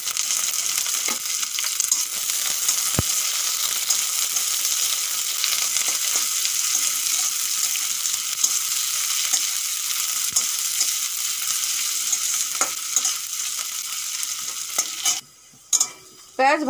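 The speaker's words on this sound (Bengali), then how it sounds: "পেঁয়াজ ভালো করে ভাজা হয়ে গেছে।" Chopped onions frying in hot oil with black cumin in a kadai (wok) as part of a raw fish curry, giving a loud continuous sizzle with occasional stirring scrapes and a brief break near the end.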